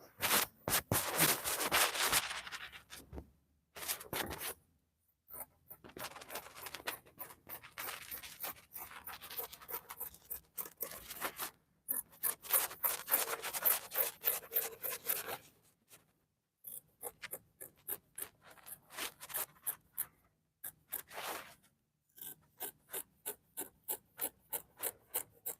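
Scissors snip through fabric while cutting out a bustier dress with a Queen Anne yoke, a long series of close, rasping cutting strokes in short bursts with brief pauses between them.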